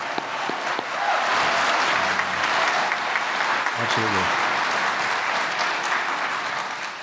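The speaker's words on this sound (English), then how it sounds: "I think the students deserve a round of applause and their teachers." Audience applauding students and their teachers at a barbershop quartet show; a loud, steady wave of clapping fills the room, sustained throughout, with a brief spoken reply and a couple of voice fragments rising over it.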